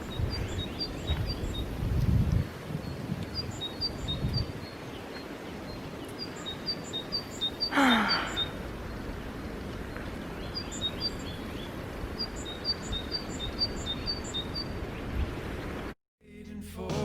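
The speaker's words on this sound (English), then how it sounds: "The birds think it's spring." Small birds chirp in short repeated bursts at a distance, over breezy outdoor wind noise and a brief rustle, ending abruptly.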